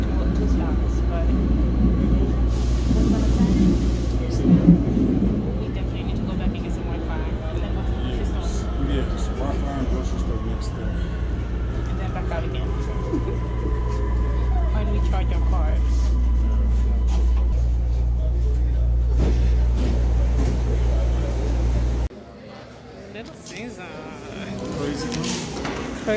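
A steady low rumble and rattle of a moving train runs throughout, with people talking over it before the noise suddenly quietens near the end.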